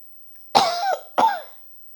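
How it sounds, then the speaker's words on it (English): Two quick, close coughs, the second following about half a second after the first, with silence around them. "I must cough."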